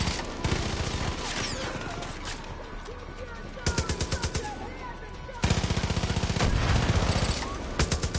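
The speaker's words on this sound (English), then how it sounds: "Ah, he's got a machine gun." Rapid machine gun fire in Far Cry 5, coming in several sustained bursts with pauses between them, loud and close, mixed with other gunfire and background game sounds.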